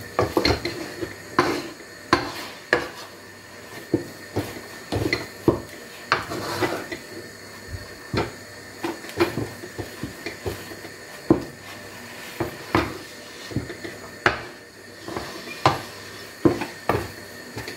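Ugali cornmeal stirred in a pot, a wooden spoon or utensil knocking and scraping against the sides in an irregular run of clacks and thuds, close and fairly clear, with no talking.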